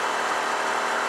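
Ducati 900 SS ie motorcycle engine idling close by, a steady, even rumble holding at constant loudness through a brief moment with no other sounds.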